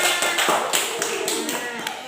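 Elementary schoolchildren in a classroom clap for a classmate in a quick, even rhythm of sharp, close hand claps. Voices murmur faintly underneath.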